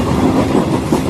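Steady rumble and rhythmic clickety-clack of a moving passenger train at night, loud and continuous, with no voices over it.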